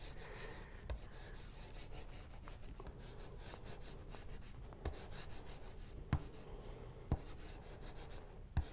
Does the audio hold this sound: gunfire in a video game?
no